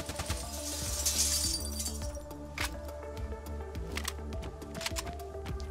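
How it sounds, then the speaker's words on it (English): Glass shatters under gunfire in the video game Arma, a bright crash at the start followed by tinkling, clinking fragments and scattered sharp clicks over a steady low game hum. "I suddenly had the urge to shoot the glass."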